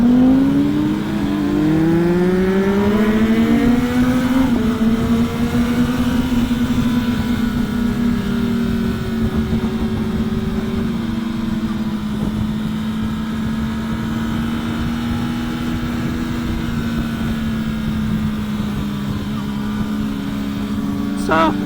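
A 2024 Kawasaki Ninja ZX10R sportbike rides a mountain road, its engine droning loud and close with rising and falling pitch as the rider shifts and rolls the throttle, steady wind roar underneath.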